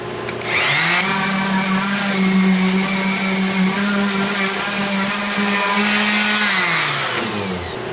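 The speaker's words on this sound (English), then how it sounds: "Now I'm gonna go back and sand these down" Power sander running steadily on wooden drill press table pieces, a loud continuous whine from start to finish with a faint rise and fall in pitch, no voices.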